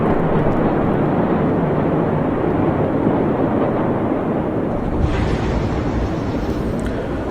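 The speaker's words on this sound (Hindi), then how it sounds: "तो ये भयानक विस्फोट हुआ है" A loud, sustained low roar and rumble like a huge explosion, heavy and continuous throughout with no voices.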